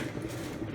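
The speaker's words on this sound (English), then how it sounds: "And that was our kettle boiling." A kettle in a home kitchen comes to a full boil, a dense, steady roar and rumble that fills the whole moment with no talk over it.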